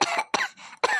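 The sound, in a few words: woman coughing in kitchen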